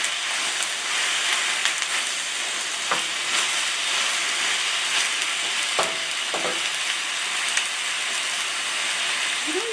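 Vegetables frying in a hot stir-fry pan, a steady bright sizzle with occasional clacks of stirring, close and continuous, with no talk over it.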